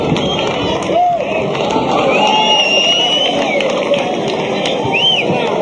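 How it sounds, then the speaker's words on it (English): Arena crowd cheering and whistling between rounds of a world title boxing fight, Anton Gilmore versus Max Gomez, as round 11 ends: a steady, loud roar with shrill whistles cutting through. "You can hear the crowd."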